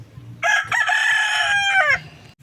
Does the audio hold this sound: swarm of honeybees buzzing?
no